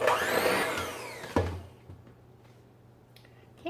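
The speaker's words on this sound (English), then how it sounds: "now I'm going to blend that until it's well mixed" A blender mixes molasses cookie batter, loud and whirring at first, then cutting off abruptly after about a second and a half and leaving near silence with a few faint clicks.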